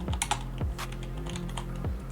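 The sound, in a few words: typing on a computer keyboard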